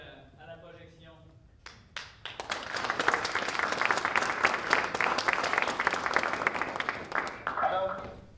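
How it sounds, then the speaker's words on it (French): An audience applauds after a film screening at a festival, steady broadband clapping building from a quieter start to a full, sustained roar of many hands, easing slightly at the end. "belle main d'applaudissements suite à la projection"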